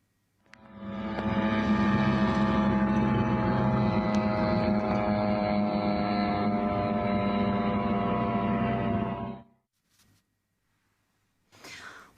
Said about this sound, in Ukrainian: в мережі поширюються відео зі звуком дрона в небі